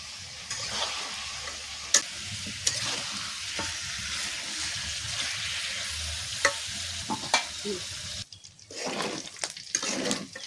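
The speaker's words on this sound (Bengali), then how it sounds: "মুরগিগুলো আমার ভালোভাবে ভাজা হয়ে গেছে," Chicken pieces frying in hot oil sizzle steadily, with sharp clinks and scraping as the pieces are turned, ending in a louder burst of stirring.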